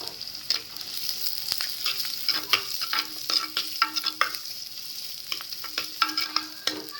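Potatoes, carrots and beans frying in a pan for rice kichadi, stirred with a steady run of scraping strokes over a continuous hiss of sizzling oil, close and moderately loud, with no talking.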